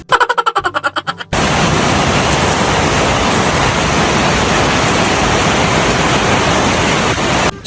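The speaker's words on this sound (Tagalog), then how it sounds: "Pero wala pa ring tigil ang ulan" Heavy rain pours in a continuous, loud, dense hiss after a brief choppy start, filling the space close by with no voices.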